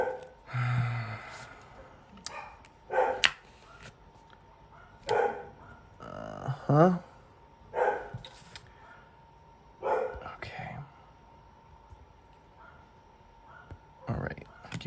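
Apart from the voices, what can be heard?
dogs barking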